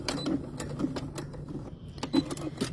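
A sewing machine stitching fabric, running in a steady rapid mechanical patter with regular ticks, close and moderately loud, with no voices.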